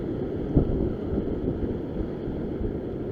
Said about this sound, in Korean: 바람이 세기 때문에 비봉돌 두 개